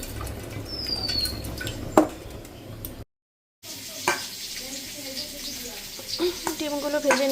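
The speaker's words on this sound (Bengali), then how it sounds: "এবার আলুটাকে একটু ভাজছি" Fully boiled potatoes fry in a pan with a close crackling sizzle and scraping stirs, cut by a short moment of silence partway through.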